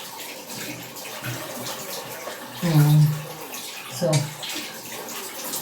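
Water from a tap runs steadily and splashes while face wash is rinsed off a face, with brief louder splashes as hands scoop water, under occasional speech.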